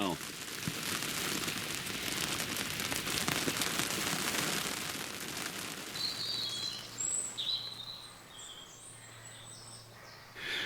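Steady rain patters across a surface by a river in the West Country of England, a dense hiss that fills the scene, with faint bird chirps appearing toward the end.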